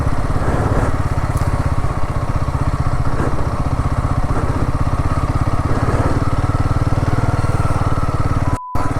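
A motorcycle engine chugs steadily at low revs in first gear on a Ladakh mountain road, a close, continuous throbbing putter with light clatter and wind.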